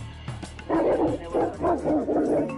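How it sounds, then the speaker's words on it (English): Mastiffs barking and woofing nearby in a run of deep, repeated barks, loud and close. "These are mastiffs."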